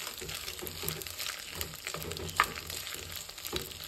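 Spaghetti being stirred through melted butter in a pan, a soft sizzle with wet scraping and tossing sounds, one brief sharper clink midway, fairly quiet and close.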